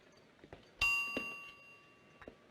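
A kitchen timer bell in a 1970s sitcom kitchen where corn muffins are baking gives one bright ding that rings on and slowly fades, fairly quiet and alone, with faint room noise around it.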